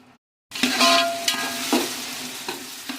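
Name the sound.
sautéing onions and tomatoes with salt in a pan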